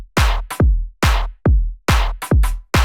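A punchy drum beat of deep kicks and crisp snares, with quick extra snare hits falling off the beat for a skipping, syncopated groove.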